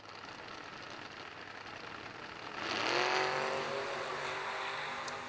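Hot rod drag cars race toward the finish line, engines swelling into a loud, rising roar midway through and then holding a strong sustained drone, with steady crowd and track ambience underneath.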